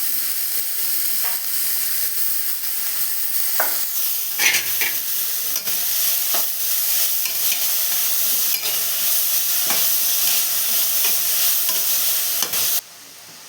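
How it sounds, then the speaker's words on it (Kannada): Chopped onions with salt frying in a pan for a South Indian meal, a steady close sizzle and hiss with occasional scrapes and clinks of a spoon stirring, no voices. "ಇಲ್ಲಿ ಸ್ವಲ್ಪ ಈರುಳ್ಳಿ ಬೇಯ್ಕೊತಾ ಇರಲಿ."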